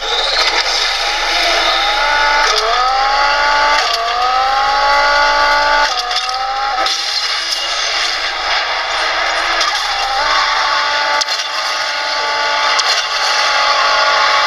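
A car engine in a mobile racing video game drones loudly and continuously, its pitch climbing repeatedly through gear changes with brief drops between shifts, steady game sound with no talking.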